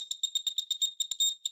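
An emGuarde radiation meter held near an iPhone 14 Pro Max beeps rapidly and sharply, a fast, somewhat uneven run of high electronic chirps at close range.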